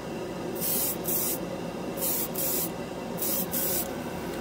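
An airbrush sprays ChromaAir paint onto a plastic scale model in three pairs of short, loud hissing bursts over a steady background hiss.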